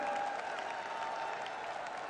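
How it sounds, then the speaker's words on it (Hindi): Crowd applause at a rally welcoming Prime Minister Modi in Jodhpur, a dense, steady roar of clapping from a large audience that holds evenly for the whole stretch. "नरेंद्र मोदी जी का मारवाड़ की इस वीर धरा पर एक बार जोरदार ताली बजाकर आदरणीय प्रधानमंत्री जी का वंदन करें, अभिनंदन करें।"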